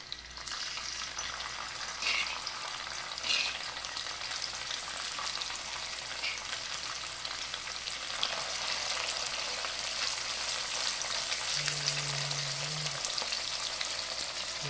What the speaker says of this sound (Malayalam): ഇതാ എണ്ണ മൂത്ത് കഴിഞ്ഞാൽ സൗണ്ട്.